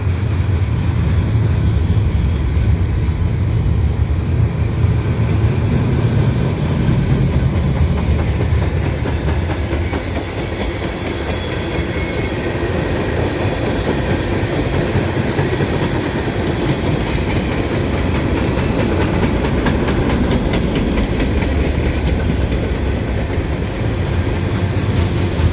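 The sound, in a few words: CN westbound fast freight train passing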